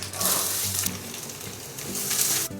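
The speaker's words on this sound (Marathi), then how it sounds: "मीडियम फ्लेमवरतीच कांद्याला परतून घेते" Chopped onion with cumin and curry leaves frying in hot oil over a medium flame makes a soft, continuous sizzle, with faint stirring scrapes underneath.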